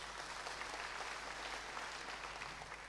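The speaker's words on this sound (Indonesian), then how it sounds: "Boleh kasih tepuk tangan buat Tuhan." Congregation applauding during a church sermon, a steady wash of clapping that is fairly faint and distant, sustained evenly throughout.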